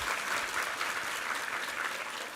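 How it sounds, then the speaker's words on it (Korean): Church congregation at a Sunday worship service claps steadily, a dense even wash of applause filling the room at moderate distance, with no speech over it. "우리 하나님께 감사와 영광의 박수 올려드리겠습니다."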